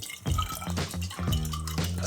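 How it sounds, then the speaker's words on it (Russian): Boiling water is poured over a glass cola bottle, heard as splashing and dripping water with a few hollow clinks of glass, fairly quiet and close, with no talk. "кипяточком разогреем ее чуть-чуть."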